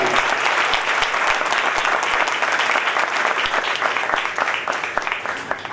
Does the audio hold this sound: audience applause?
yes